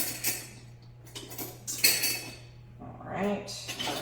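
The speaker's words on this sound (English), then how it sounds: "I'm going to grab a teaspoon." A teaspoon being picked out from a set of cutlery, giving bright metallic clinks and rattles in several short bursts, close and fairly loud, between stretches of a person talking.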